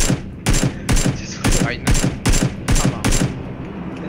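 Rapid automatic gunfire from the shooter game PUBG (Battlegrounds) comes in about eight sharp, evenly spaced bursts roughly half a second apart, loud and close, with a brief spoken remark among them.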